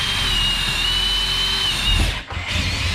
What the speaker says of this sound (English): We might actually have to re-drill that one at a different angle to get the lag.